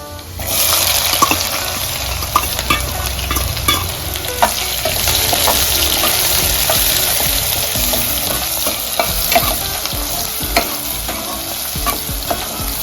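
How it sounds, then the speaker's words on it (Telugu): Onions frying in oil in a kadai for palak paneer, a loud, continuous sizzle close by with scattered scrapes and clinks from stirring, and no talking. "ఇప్పుడు ఆనియన్స్ వేసుకోవాలి"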